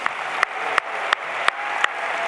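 An audience at a Melbourne Town Hall launch event applauds, a dense wash of clapping with a few sharper, regularly spaced claps standing out above the crowd.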